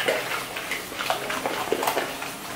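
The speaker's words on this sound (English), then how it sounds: "I choose to wash my gloves so that I can reuse it the next time." Rubber gloves rinsed under running water make a continuous close rushing splash with small wet surges throughout.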